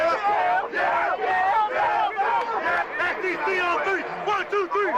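A sellout homecoming crowd of Georgia Bulldogs football fans roars and yells in a packed stadium, a dense sustained wall of cheering voices with shouts rising and falling throughout.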